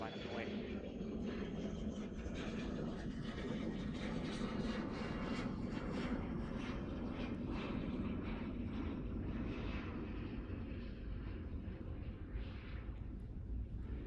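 An Alaska Airlines jet departs runway 30 at San Jose airport, a broad, fairly faint roar of jet engines that holds steady in the distance and slowly fades.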